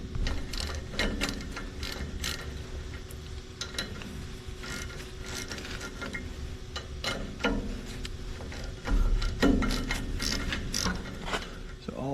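A ratchet loosens 1/2 inch bolts on a sawmill band wheel bushing, with repeated close mechanical clicks and rattles over a steady low hum, now and then louder clunks.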